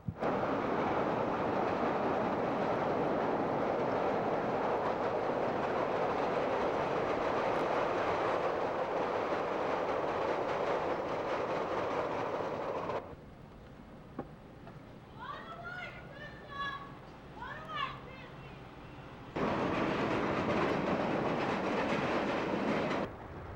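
A CTA Green Line train at East 63rd Street in Chicago, loud steady rumble and rolling wheel noise filling most of the stretch, with a quieter break where a voice speaks before the train noise returns.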